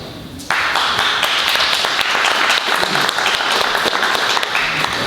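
Audience bursts into applause at a farmers' gathering, loud sustained clapping that starts abruptly and continues for several seconds.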